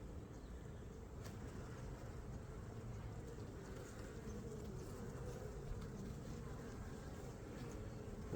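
Honey bees packed densely inside a single-deep hive make a steady, low, even buzz close by, with no talking.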